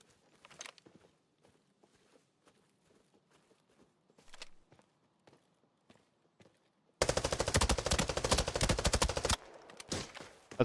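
Video-game gunfire: scattered quiet taps and footstep-like clicks give way to a loud, sustained burst of rapid automatic fire that cuts off abruptly, followed by a few softer shots.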